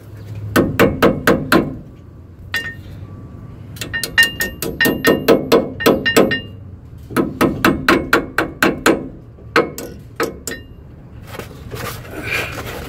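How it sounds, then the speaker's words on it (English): Metal hammer taps on a Ford F-150 rear brake rotor in quick bursts of several strikes, ringing sharply and close, with short pauses between groups. "they may need to be tapped on, to which I'll get my hammer"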